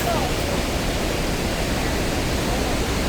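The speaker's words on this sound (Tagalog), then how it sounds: "Makikita po natin yung kabuuan ng Niagara Falls." Niagara Falls pouring down, heard from the bottom as a loud, dense, unbroken roar of rushing water that fills the whole scene evenly from start to finish.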